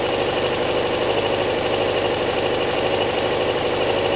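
A Kawasaki ZL600 motorcycle engine idles steadily while still cold, a close, loud, continuous rumble with an even, rapid mechanical beat and no voices over it.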